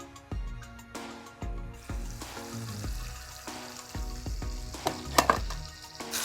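Mutton slow-fried in oil in a pan sizzles in a soft, steady hiss, heard under pitched rhythmic background music with occasional louder crackles near the end.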